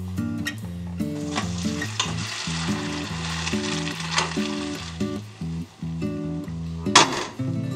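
Boiling pasta water gushes and hisses as it pours into a strainer, with occasional metallic clinks, while music plays underneath.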